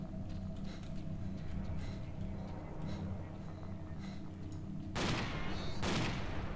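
Gunfire in Stalker Call of Chernobyl, a couple of sharp close shots cutting through a steady low droning background, the second following about a second after the first.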